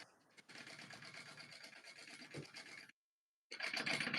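A sewing machine running a basting stitch at an eighth-inch seam allowance while making a tote bag: a fast, even whirring drone that runs for a couple of seconds, stops briefly, then starts again, close by with no talking.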